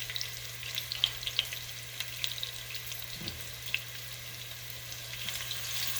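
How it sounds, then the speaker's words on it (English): Chicken pieces browning in a pan for curry give a quiet, steady sizzle with scattered small crackles and a faint low hum in the background. "So I'm just lightly browning this just to get some color on it."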